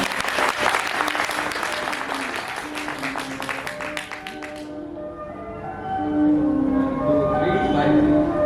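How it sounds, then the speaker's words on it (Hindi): Seminar audience clapping for a slide presentation on refining exercises, a burst of many hands applauding for about four seconds before fading, followed by quieter room tones. "उसके लिए थोड़ी ताली हो जाए"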